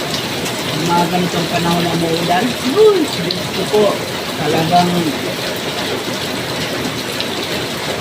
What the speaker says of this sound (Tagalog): Mga ganitong panahon na umuulan.